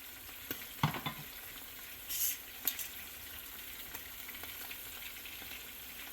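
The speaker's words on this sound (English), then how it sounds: "if you do it in a pot, it's deeper and they don't spit and spatter like these are doing" Queso frito, guava-topped fried cheese, frying in shallow oil in a pan, giving a faint steady sizzle with a few sharp spatters and pops scattered through, no talking.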